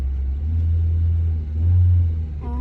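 A manual car engine revs with the clutch pressed during a beginner driving lesson, a steady low rumble that swells briefly in two pushes, close and alone.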